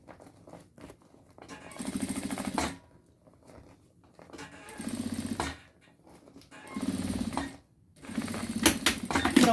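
A sewing machine stitching the seams of a fabric cat-pig bag, running in several loud bursts of rapid mechanical stitching separated by short pauses, close by with no talk.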